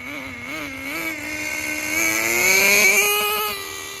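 A Thunder Tiger Tomahawk two-speed RC car drives with a steady, close motor whine that climbs in pitch as it speeds up, then eases off near the end.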